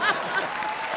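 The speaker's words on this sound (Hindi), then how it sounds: "क्या बात है, जोरदार तालियां" Audience applause at a televised Hindi comedy show, a brief burst of clapping from the studio crowd that starts strong and stays steady through the second.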